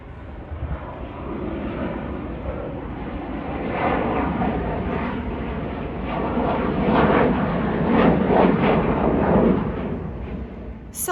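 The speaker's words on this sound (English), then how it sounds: "The National Guard is also practicing today directly over my house, so there may be some jet noise." National Guard military jets practicing overhead above a backyard garden, a broad continuous roar that swells and rumbles for several seconds without a break, loud and distant-sounding.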